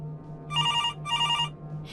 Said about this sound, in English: until the phone rang again